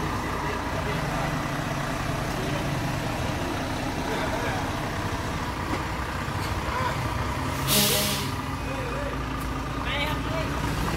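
A Volvo trailer truck of 440 horsepower hauling a CAT 320 Next Gen excavator into a narrow lane rumbles steadily, with a short loud hiss of air brakes releasing midway while someone talks over it.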